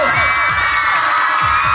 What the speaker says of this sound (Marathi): ते जोरदार टाळ्या झाल्या पाहिजे या मुलीला